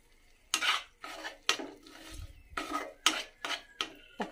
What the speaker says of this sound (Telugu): కొద్దిగా కొత్తిమీర యాడ్ చేసుకొని ఈ మొత్తాన్ని చక్కగా మిక్స్ చేయండి.